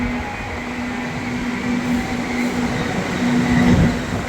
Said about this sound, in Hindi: about to board a train जो जस्ट ओपन हुई है दिसंबर 2023 में